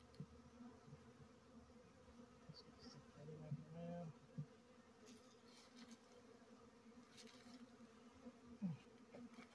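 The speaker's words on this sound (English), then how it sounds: "Too many bees in this thing." Bees buzzing around a hive removed from a tree, a faint continuous drone with occasional nearer passes, and a brief low voice in the background.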